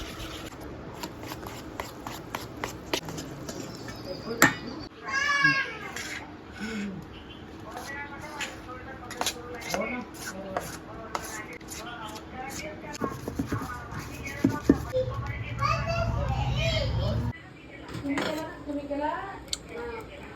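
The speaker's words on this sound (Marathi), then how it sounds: "आता पुन्हा हे सगळं व्यवस्थित मिक्स करा" Mango cake batter with milk powder and semolina is stirred in a bowl. A utensil scrapes and clinks against the sides in irregular bursts, with a low rumbling stretch partway through and a voice talking over it.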